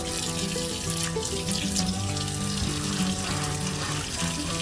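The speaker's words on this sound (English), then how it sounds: "let's add a little water" Water runs from a tap into a cast iron skillet being cleaned, a steady close splashing wash of sound with no voices over it.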